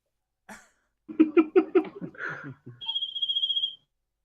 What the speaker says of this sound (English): It's a fucking GTA ringtone.